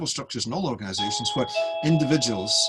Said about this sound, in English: that's my doorbell going.